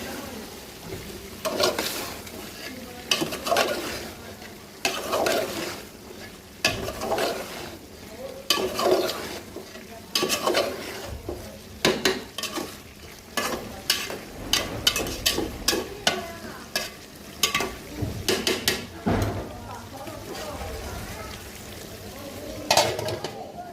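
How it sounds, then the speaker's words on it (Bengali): Pumpkin fries in a pan on a gas stove, a steady sizzle broken by repeated scraping stirs and clinks of a spatula against the pan, close and fairly loud. "যে মিষ্টি কুমড়া ভাজিটা গ্যাসে দিয়েছি"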